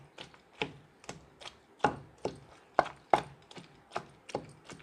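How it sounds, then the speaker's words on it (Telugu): Onions are pounded in a stone mortar for an okra and tomato chutney, giving a steady run of about a dozen close, dull thuds and crunches at an even rhythm, with no speech. "ఉల్లిపాయలు కూడా మెత్తగా దంచుకోకూడదు, కచ్చా పచ్చగానే ఉండాలి"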